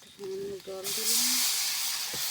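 Water poured into a hot pan while cauliflower is being cooked: a sudden loud hiss bursts out and continues steadily, with a short stretch of voice just before it.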